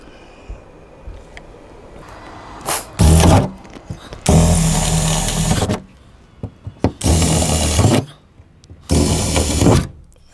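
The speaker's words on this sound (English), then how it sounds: "Now I'm going to go with a larger drill bit." A power drill with a larger bit whines in several loud bursts, boring into wood for a MaxxAir MaxxFan Deluxe installation, with gaps of quiet scraping and handling between runs.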